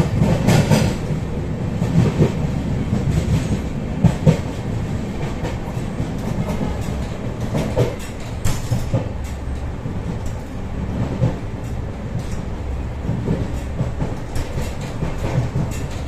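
A Vistadome tourist special train runs on rails through the Dooars, with a steady loud rumble and rattle of wheels and carriages and recurring clicks of rail joints, continuous and close throughout.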